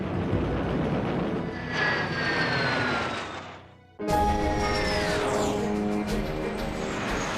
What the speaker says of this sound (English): Soviet-built MiG-15s fly into action for the very first time.